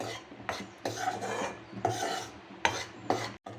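Wheat puttu is heated and stirred in a pan, giving a dry rasping, scraping sound in repeated strokes at close range, with no talking.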